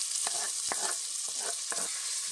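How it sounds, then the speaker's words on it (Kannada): Sliced onion frying hard inside a pressure cooker, a bright dense hiss of hot oil with several short rhythmic scrapes of a spoon stirring, alone and fairly close. "ಈರುಳ್ಳಿ ಚೆನ್ನಾಗಿ ಫ್ರೈ ಆಗಬೇಕು."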